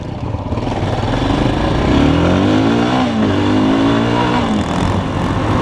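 A diesel motorcycle racing along a course, its engine droning loud and close with a steady, rising and falling note throughout, no voices over it.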